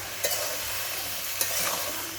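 Bottle gourd frying with shrimp in a pan, a steady broadband sizzle with a couple of brief stirring scrapes, fairly close and moderately loud, no voices.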